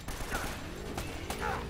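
In Uncharted: Drake's Fortune, an enemy shoots at the player. A few sharp, mid-distance gunshot cracks come at irregular intervals over a busy, humming game soundscape.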